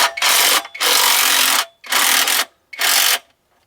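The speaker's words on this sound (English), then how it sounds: "And I'll go ahead and use my ratchet here, impact, and turn this down." An impact wrench drives a transmission jack down beneath a Trailblazer 4x4, loud, close bursts of whirring and hammering, four in a row separated by short pauses.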